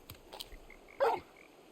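Torgal, a dog in Final Fantasy XVI, gives a single short bark, close and fairly loud, preceded by a few faint snuffles and quiet game sounds.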